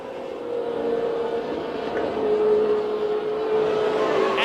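Formula One race cars at the Brazilian Grand Prix, a sustained loud engine whine holding a steady pitch for several seconds, with a rising tone near the end as a car draws closer.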